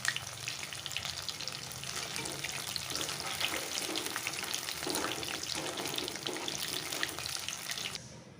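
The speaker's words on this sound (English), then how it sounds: "I have fried the paneer." Paneer cubes frying in a pan with a steady, busy sizzle and crackle that holds evenly throughout, close and moderately quiet, with no voices.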